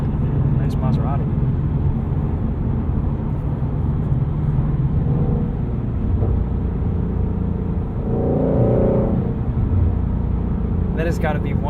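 A Ford Mustang Shelby GT350 runs on the road with a deep, steady engine rumble that swells briefly as it revs while driving, with people talking over it.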